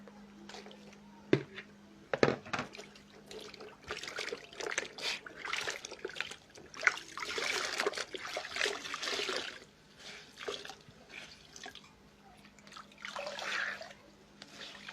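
Water splashing and trickling as freshly dyed cloth is rinsed by hand, irregular sloshes and dribbles near and fairly soft over a steady low hum, with no voices.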